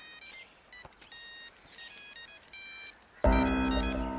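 A cellphone rings with a repeating electronic beep tone in short bursts, then a much louder, fuller tone cuts in abruptly near the end.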